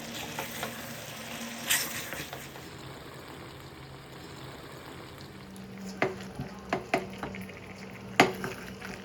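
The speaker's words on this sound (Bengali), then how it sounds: "ভেজে রাখা আলুগুলো এবারে আমি এর মধ্যে দিয়ে মাংসটা আর একটু পরিমাণ কষিয়ে" Mutton and fried potatoes sauté in a pan over medium flame. Low sizzling runs under repeated spatula scrapes and clanks against the pan, with sharper hits near the end.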